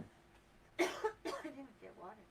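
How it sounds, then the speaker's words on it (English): Two quick, harsh coughs close to the mic, followed by a brief throaty rasp, with a quiet room behind. "Hold on, I need to cough."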